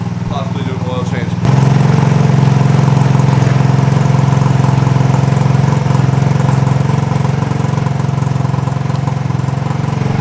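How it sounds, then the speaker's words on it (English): A dirt bike engine idling steadily after an air filter service and oil check in a home garage, a loud close mid-pitched putter that picks up sharply after a quieter opening second and keeps running. "Dude's going crazy because of the sound of the bike."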